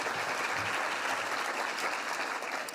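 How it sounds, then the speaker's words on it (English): An audience at a women's history month luncheon gives a steady round of applause lasting a few seconds. The clapping is dense and even, and no one speaks over it. "A round of applause one more time."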